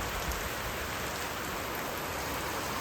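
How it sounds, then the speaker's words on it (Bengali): Heavy rain falls on a rural Bangladeshi homestead, a loud, dense and unbroken hiss of downpour close by, with no voices over it. "দেখেন কি বৃষ্টি নামলো"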